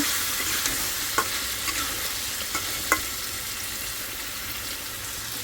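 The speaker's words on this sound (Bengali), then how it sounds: "আর এটার মধ্যে পানি দিতে হইব" Water is poured into a hot frying pan where river fish and sweet gourd cook, giving a steady close sizzle with scraping stirs and a few sharp clicks of the utensil.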